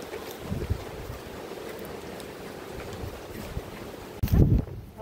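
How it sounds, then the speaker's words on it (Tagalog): Strong wind blows across a misty, rainy mountain trail on Mt. Pulag, a constant rough rushing roar with gusty buffeting against the microphone and a louder burst near the end. "Lakas ng hangin, maambon."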